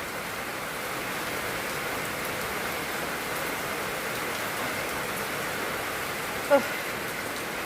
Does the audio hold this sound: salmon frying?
no